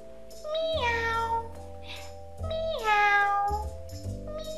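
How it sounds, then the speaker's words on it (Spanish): A cat meows twice, loud and close, each call a drawn-out rising and falling cry, with a low background hum between them. "Sí, un gato."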